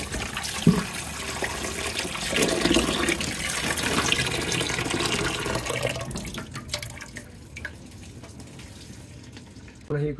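Food being rinsed under a running kitchen tap, a steady rush of water splashing into a sink for about six seconds, then fainter drips and handling noises.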